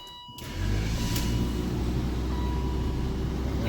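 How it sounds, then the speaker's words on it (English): A BMW car engine, E39, E46 or E53 era, cranks with the key and catches after about half a second. It then settles into a steady, close idle with no talking. "find the key. Start the car."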